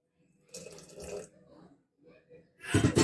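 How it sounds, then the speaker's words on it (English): Water is poured in uneven splashy bursts into thin appam batter, faint and close, with a louder gush at the end. "I'll add little more water to this."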